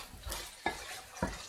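Food cooks in a pan with a low sizzle, broken by three sharp stirring scrapes and knocks of a utensil against the pan, near and distinct.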